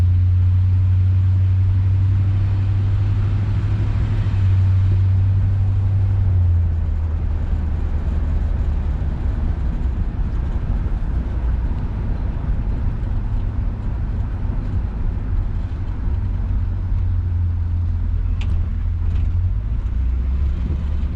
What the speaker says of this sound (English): There's a bunch of trucks and stuff going on up here.